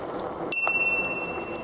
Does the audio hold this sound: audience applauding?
no